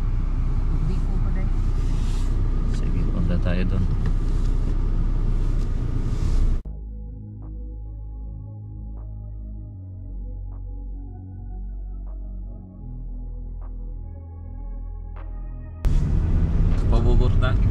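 Vehicle road traffic heard as a loud, steady broadband rumble, broken midway by a quieter stretch of low engine hum with faint tonal tones before the loud traffic noise returns; a voice speaks briefly over it.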